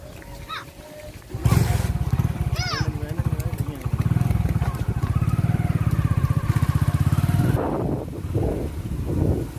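Motorcycle on a village lane in Punjab, Pakistan: the engine kicks in with a loud, rapid pulsing putter and chugs close by for several seconds, then drops away as people talk.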